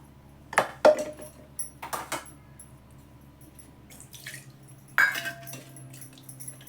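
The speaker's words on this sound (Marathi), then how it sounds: "विसळून घेते हे भांडं" A steel vessel being rinsed with water at a kitchen sink while making dosa batter, with a few sharp metallic clinks and knocks and light splashing separated by quiet gaps, close by.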